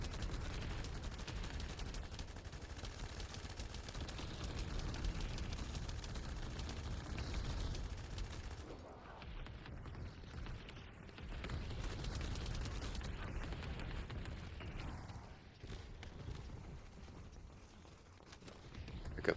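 Gunfire during a boss fight in The First Descendant video game forms a dense, continuous barrage of weapon fire with dense game noise that thins out partway through, with no talk.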